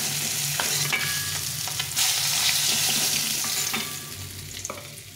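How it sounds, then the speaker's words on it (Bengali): Tilapia fish fry in hot oil with a dense, loud, continuous crackling sizzle, broken by a few clattering knocks of a utensil, close up with no voices. "এইভাবে করে সবগুলো মাছ ভেজে নেব।"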